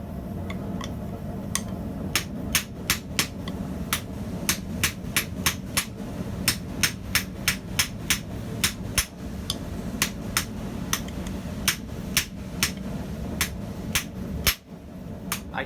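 Sharp metallic hammer strikes on a forged tong blank resting on a small stump anvil, ringing out in quick irregular bursts and single blows over a low steady background hum.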